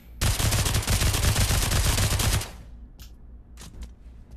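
Scorpion submachine gun fired in the VR shooter game Pavlov: a loud, rapid continuous burst lasting about two seconds, followed by a few faint clicks and clatters.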